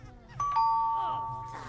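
A two-tone ding-dong doorbell rings inside The Sims 3 game, a clear bright chime followed by a lingering second tone over low background game music.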